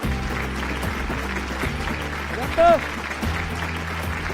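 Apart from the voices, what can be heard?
audience clapping hands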